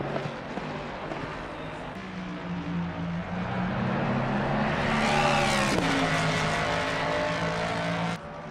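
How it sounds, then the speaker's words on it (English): A GT3 race car engine at Monza roars loudly and steadily, its pitch climbing and surging as it passes close by, then cutting off abruptly at the end. "Just love how that car sounds."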